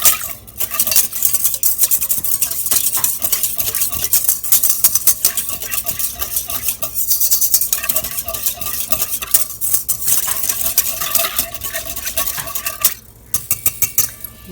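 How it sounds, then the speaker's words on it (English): A whisk rattles quickly against a bowl while active dry yeast is mixed in. The scraping and clinking are close and continuous, with a few sharper knocks near the end. "I'm going to whisk this together."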